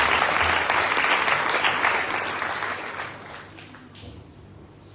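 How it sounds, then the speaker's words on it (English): Audience applause for the debut performance of musician Yadav at a Hindu Renaissance South Africa tour event, loud at first and then thinning and fading over the last seconds. "Let's give him a round of applause"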